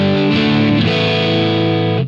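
Electric guitar played through a modelled Marshall Plexi amp on stock settings, with no reverb: a loud, crunchy distorted chord strummed, then re-struck and left ringing for about two seconds before being cut off.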